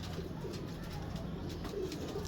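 Low, soft pigeon cooing from a bird thought to be a female, a steady murmur repeating over a quiet background with faint chirps.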